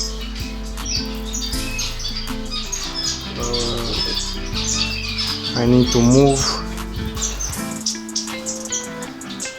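Caged birds in an indoor breeding bird room chirp, tweet and squawk in a busy overlapping chorus, with someone talking briefly over them.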